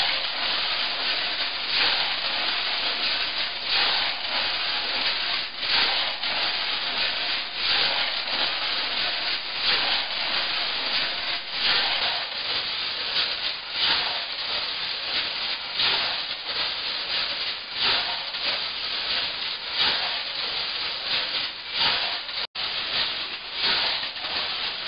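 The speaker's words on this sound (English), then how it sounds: "The roofing nails made a real racket. Lots of noise from those nails." Roofing nails tumble inside a rotating de-rusting tank, making a steady, dense metallic rattling hiss that runs nonstop at close range with no voices.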